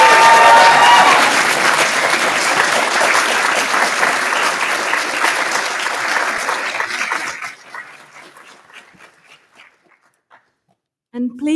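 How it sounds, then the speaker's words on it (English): Graduates at a winter graduation ceremony break into loud, dense applause and cheering in a large hall. The sound holds strong for several seconds, then thins to scattered claps and dies away, followed by a brief burst of speech. "Please applaud and cheer"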